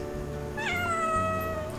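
A house cat meows once, a clear rising-and-falling call heard close up over a steady low background hum in a home where dogs are being trained.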